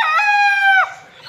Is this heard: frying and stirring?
no